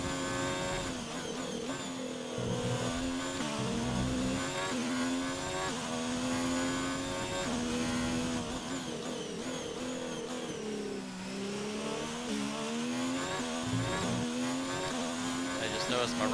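Formula 1 race car engine from the F1 2019 racing game, a loud continuous high-pitched whine rising and falling with revs as the car understeers through corners, with occasional tire squeal and brief talk in the background.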